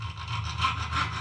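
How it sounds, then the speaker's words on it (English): Close, rasping strokes of a saw or file cutting a small slot into a bolt on a Series Land Rover being restored, two or three quick rhythmic passes. "So I'm going to try cutting a little slot."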